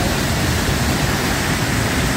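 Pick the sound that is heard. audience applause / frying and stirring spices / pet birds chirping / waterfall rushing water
waterfall rushing water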